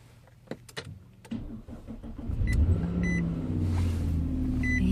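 A car starts in frigid weather: a few clicks and a brief crank, then the engine catches and settles into a loud, close running rumble, with a few faint chimes on top.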